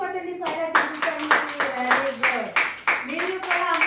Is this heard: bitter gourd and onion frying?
no